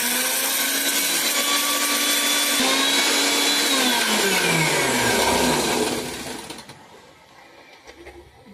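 An electric mixer grinder whirs loudly and steadily as it grinds roasted fenugreek and mustard seeds for a mango-ginger pickle, the motor pitch dropping as it winds down and stops near the end.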